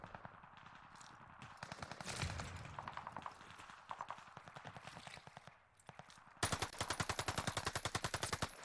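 Rapid automatic gunfire in the shooter game The Vanguard Alpha, a dense run of close, sharp shots with a brief lull before a louder, faster burst at the end.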